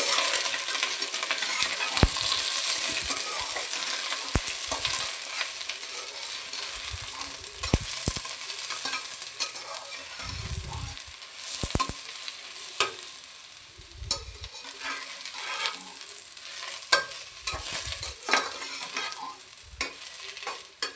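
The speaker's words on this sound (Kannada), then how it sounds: "ಹಾಗಲಕಾಯಿನ ಆದಷ್ಟು ಎಣ್ಣೆಯಲ್ಲಿ ಚೆನ್ನಾಗಿ ಫ್ರೈ ಮಾಡ್ಕೋಬೇಕು, ಹಸಿ ವಾಸನೆ ಹೋಗೋವರೆಗೂ" Small-cut bitter gourd slices fry in oil in a pan, a continuous hiss of sizzling broken by repeated metallic clinks and scrapes of a spatula stirring, close and fairly loud with no voices.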